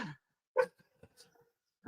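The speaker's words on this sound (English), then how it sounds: "The dog isn't happy." A dog heard faintly over a phone line gives two or three short, muffled barks separated by silence.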